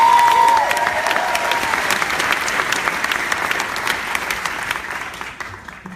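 A large audience at a Global Citizen event applauds and cheers in a dense, steady wash of clapping that slowly fades toward the end.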